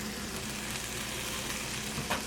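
Salmon and onions sizzle in a non-stick pan, a dense, even frying hiss that holds steady throughout, with a faint clink near the end.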